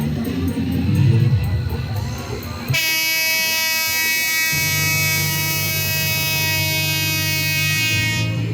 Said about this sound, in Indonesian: di sini ada kereta mini anak.